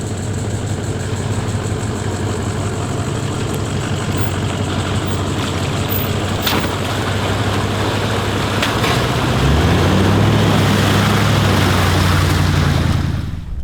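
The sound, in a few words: 4x4 engine driving off-road in low range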